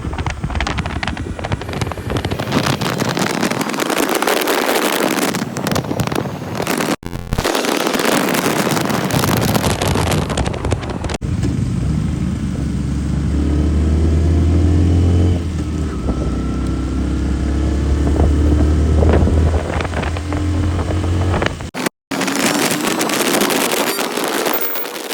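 A Bajaj Platina 100cc motorcycle from 2025 starts and rides off, its small engine note steady beneath heavy wind buffeting across the microphone for most of the run.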